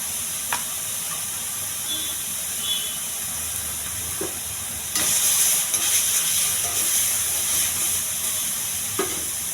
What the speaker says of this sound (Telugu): ఉల్లిపాయ, బాగా యాగనివ్వాలి. కొద్దిగా అల్లం వెల్లుల్లి పేస్ట్ అండి